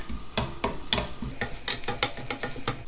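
Sliced garlic and onion sizzling in a hot pan while being stirred, with crackling frying and irregular scraping strokes close by.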